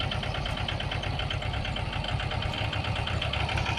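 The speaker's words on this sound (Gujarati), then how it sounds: "જો ટ્રેક્ટર આવી ગયું છે, જેનું ટ્રેક્ટર આવ્યું છે રોટરી મારવા માટે।" A tractor that has arrived for rotary tilling of fallow tobacco farmland idles close by, its engine knocking in a steady rapid rhythm over a low rumbling drone.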